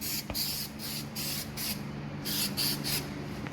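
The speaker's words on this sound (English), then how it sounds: "So we're spraying some bed liner on it to prevent water from getting in there and rusting the metal" Bed liner is sprayed onto a truck's metal body in a series of hissing bursts, roughly six or seven pulses in a loose rhythm, close by and fairly loud over a low steady hum.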